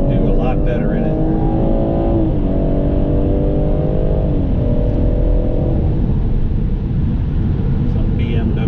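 A BMW 440i laps the Nürburgring GP circuit, its engine droning loud and close throughout, pitch rising and dropping through gear changes in the first half before settling into a steady, heavy rumble with road and wind noise.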